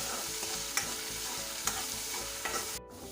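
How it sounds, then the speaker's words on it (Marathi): Ground raw onion paste sizzles steadily in hot oil in a pan for an egg curry, while a spoon stirs and scrapes with a few sharp knocks against the pan. The sound is close, with no talking. "कच्चा कांदा आपण दळून घेतलेला आहे म्हणून त्याला 5 ते 6 मिनिटं परतायला वेळ लागेल"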